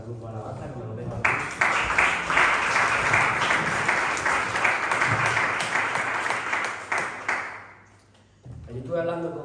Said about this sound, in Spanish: vamos a darle un fuerte aplauso al grupo Alabanza